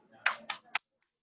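A thick veal cutlet for Milanese is pounded flat, three sharp close smacks in quick succession, each one brief and dry, followed by silence.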